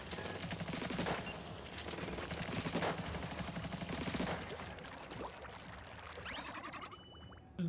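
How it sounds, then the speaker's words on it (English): Continuous AK rifle fire in a video game, rapid dense shots rattling loudly and close for several seconds, easing slightly near the end with a brief metallic tail. "If this AK can shoot."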